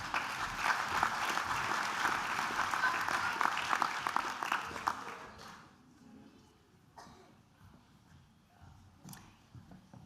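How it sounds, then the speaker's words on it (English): Audience applauding at a graduation ceremony for ESOL students, dense hearty clapping for about five seconds that then thins out to scattered claps and quiet room noise. "Round of applause for ESOL Level 4."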